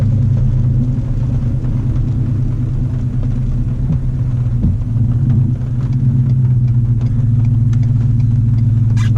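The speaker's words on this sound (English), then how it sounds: "your transmission has to learn, and there's a nice downshift" A tuned car with an automatic transmission drives along with a steady low engine rumble, the note dipping briefly as the gearbox downshifts, heard alone at close range.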